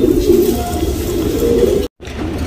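Tournament racing pigeons in a Bangalore loft coo steadily and close, low throaty calls running for about two seconds before a brief dropout, with no talk over them.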